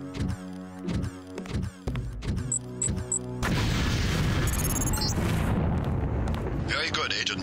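A grenade exploding in the Deus Ex demolitions tutorial: a loud, heavy boom bursts in midway, followed by a sustained rumbling roar, after earlier game sounds.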